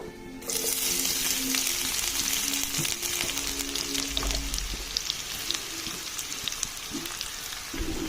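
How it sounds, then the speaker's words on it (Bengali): Sliced onions for birista drop into hot oil in a kadai and break into a bright, continuous sizzle, close and steady, with occasional clinks of stirring. "এবার আমি কেটে রাখা বেরেস্তার পেঁয়াজগুলো দিয়ে দিব"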